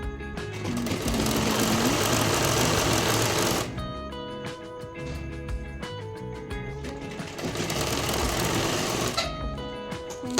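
A sewing machine stitches a salwar in long continuous runs, loud and close, with a short pause of lighter mechanical clatter between bursts of fast steady whirring.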